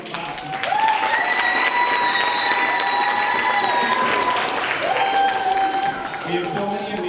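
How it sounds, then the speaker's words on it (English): A school district audience at an orchestra and band concert claps steadily for the K-12 music staff. Sustained tones ring above the applause throughout. "give them a clap"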